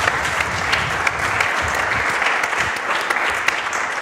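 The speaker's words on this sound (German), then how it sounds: "den analogen Applaus wollen wir haben für Wetter" A live audience claps steadily for the crew, a dense, fairly close wash of applause lasting the whole stretch with no voices standing out.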